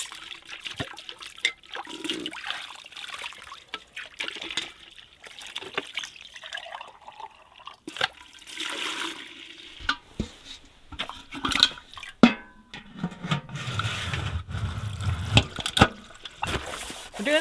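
Water from a hose splashes over chicken feeders and bowls during seasonal cleaning, coming in intermittent spurts and drips that build into a heavier, steadier rush of spray near the end.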